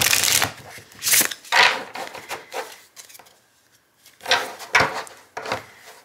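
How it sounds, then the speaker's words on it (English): A deck of cards being shuffled in several quick riffling bursts, close up, with a short quiet pause in the middle. "Let's give it a nice shuffle. This deck shuffles beautifully."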